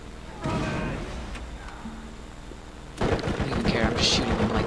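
Gunfire in the video game Borderlands, a sustained burst of rapid shots in the second half after a quieter stretch, loud and dense.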